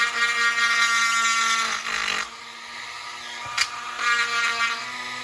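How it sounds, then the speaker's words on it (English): A drill bit bores through a plastic airplane model in a steady, whirring run that dips briefly at about two seconds, followed by a sharp click and a second short whir. "you can feel when the drill bit is getting closer and closer of poking through the plastic"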